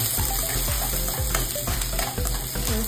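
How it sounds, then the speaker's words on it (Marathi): Spices with onion, coconut and cinnamon roast in a little oil until golden: a loud, close, continuous sizzle with the rhythmic scrape of stirring in the pan. "हे सगळे मसाले भाजून घेऊया। पहिले यामध्ये थोडंसं तेल टाकायचं,"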